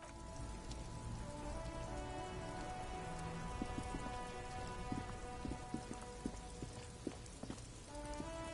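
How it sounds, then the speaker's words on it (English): Steady rain pours in the video game Disco Elysium, a dense constant patter on surfaces with scattered drips and faint tonal music-like hums beneath. "Stuck in the rain in a traffic jam."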